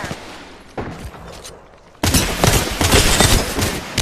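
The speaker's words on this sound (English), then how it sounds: "Opening fire." Gunfire in the video game Apex Legends: quieter scattered shots give way to a loud, sustained burst of rapid automatic fire, close and dense, with no talking.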